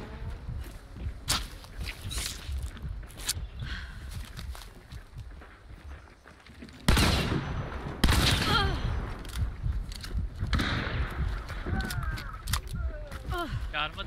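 Gunfire and a bomb lance blast in the Hunt: Showdown video game, with sharp loud shots and bursts at irregular intervals amid footsteps and game noise, while people talk throughout.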